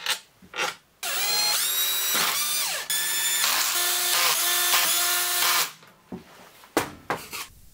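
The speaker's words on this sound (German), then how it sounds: "Der Akkuschrauber, den benutzen wir nur, um Zeit zu sparen." A cordless screwdriver drives engine case screws on a Yamaha XT600 in several whirring bursts that rise in pitch, close and loud, separated by short clicks and handling noises.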